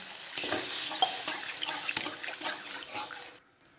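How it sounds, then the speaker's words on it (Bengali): Water is poured into spice masala frying in a pan for a sardine fish curry, bringing a close, loud burst of hissing sizzle and bubbling that fades abruptly near the end, with no voices. "আমি একটু জল দেব আবার একটু ভালো করে কষিয়ে নেব"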